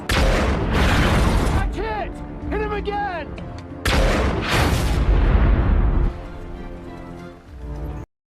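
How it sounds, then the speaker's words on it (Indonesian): Tank cannon fire and a Panzer tank exploding in a World War II battle scene from the film Saints and Soldiers, with loud booming blasts and bursts of gunfire under a dense, chaotic mix that includes shouting voices. "Mereka melepaskan tembakan yang menghancurkan 1 tank panzer."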